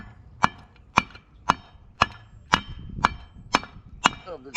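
A sledgehammer pounds a spindle out of the front end of a Dodge Ram 1500 5.7-liter 4x4. The blows are loud and close, about nine of them in a steady rhythm roughly every half second.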